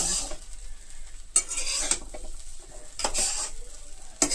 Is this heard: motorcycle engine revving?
no